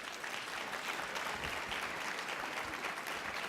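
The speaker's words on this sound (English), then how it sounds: "let's give them a round of applause" Steady, dense applause from a large audience at an awards night, honoring conference sponsors, sustained and even at moderate distance throughout.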